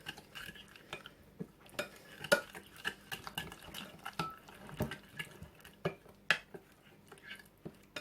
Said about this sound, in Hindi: मिक्स करके पेस्ट बना लेते हैं।